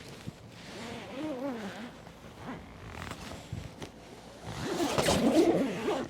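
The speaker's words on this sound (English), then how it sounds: "Then I would open the second zipper." A zipper on a vertical hyperbaric chamber is pulled open in a few rasping runs, getting louder and busier toward the end, with some faint voice-like murmuring in the background.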